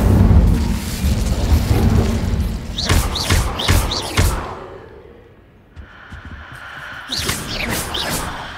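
An Incendio fire spell in Hogwarts Legacy, cast inside a haunted shop, erupts as a deep booming whoosh and a rapid series of crackling bursts, fading out and then followed by a second flurry of sharp flares.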